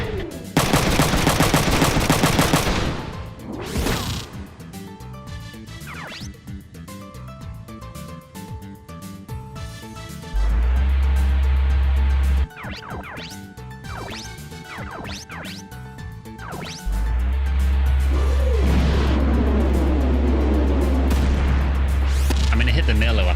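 Video game Front Mission 3 combat with bursts of rapid gunfire, heavy impact booms and a low rumbling blast layer, loud and busy, mixed with game sound effects and music.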